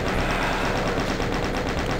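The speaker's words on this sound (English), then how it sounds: "I put on the chain gun, the minigun." A chain gun (minigun) firing in Doom, a steady, dense stream of rapid rattling shots sustained loudly for the whole two seconds.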